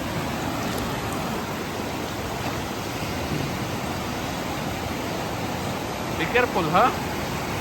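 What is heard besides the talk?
strong sea waves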